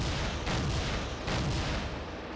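Pistol gunfire in the Soldier of Fortune video game: dense, noisy broadband blasts that stay loud and continuous throughout, with a couple of brief sharp accents and no talk.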